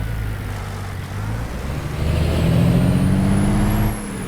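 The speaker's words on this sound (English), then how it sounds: "listen to that turbo" A heavy truck hauling an oversized load in American Truck Simulator rumbles with a low engine drone, then builds as a rising turbo whistle spools up and climbs before cutting off.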